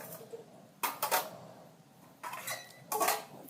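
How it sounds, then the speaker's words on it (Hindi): Washed metal pots, plates and utensils are set out to dry in a village home at night. Three bursts of close, loud clattering and clanking stand against a quiet background, with no talk. "यहाँ पे सारा जितना भी बर्तन है दोस्तों सभी को मैं सेट कर देती हूँ"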